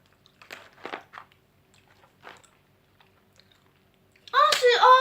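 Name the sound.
biting and chewing crunchy candy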